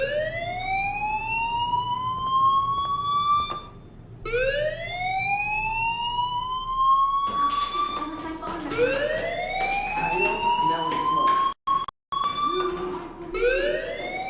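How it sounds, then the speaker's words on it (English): Fire alarm ringing in the video game Life Is Strange: a loud, repeating rising electronic wail that sweeps up again and again, with voices talking over it in the later part. "Hey, do you hear that fire alarm?"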